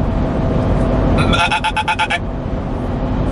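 Goats bleating close by, a single loud wavering bleat with a pulsing, stuttering quality lasting about a second, over a steady low background rumble.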